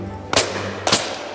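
Two loud shotgun blasts about half a second apart at a driven game shoot, each a sharp crack with a brief outdoor tail over a steady background hum.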